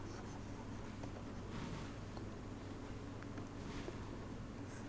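Chalk or marker scraping steadily across a board during a predicate logic lecture, a continuous scratchy texture with faint room noise and no talking over it.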